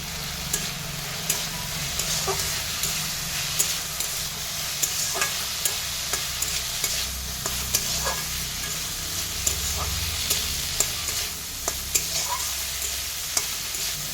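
Potatoes and eggplant fry with salt and turmeric in a pan, a continuous crackling sizzle close up, punctuated by intermittent scrapes and taps of a stirring spoon.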